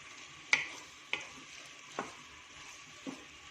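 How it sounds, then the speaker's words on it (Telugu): Chicken pieces with ginger, garlic and spices fry in hot oil, a soft steady sizzle broken by four sharp stirring clinks spaced about a second apart, close up. "ఆయిల్లో వేగుతుంది"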